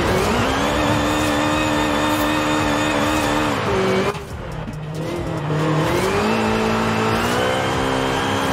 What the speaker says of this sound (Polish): Honda naprawdę bardzo ładnie ukręca te opony liftowe